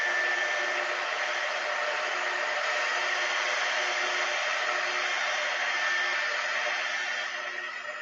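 A hair dryer blows steadily at close range, drying a Christmas cookies-for-Santa craft tray, a constant loud whooshing hum with no pauses or voices.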